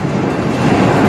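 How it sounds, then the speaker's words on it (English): A freight train passing close by at a railroad crossing produces a loud, dense, broadband rumble and roar that fills the whole brief moment without letup. "I always get stuck behind this train."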